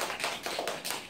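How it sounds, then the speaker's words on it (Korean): A church congregation claps in birthday celebration, a dense, continuous patter of many hands with swelling pulses, fairly close and without talk. "지금 오늘 생일인데 우리 축하 박수 한번 합시다."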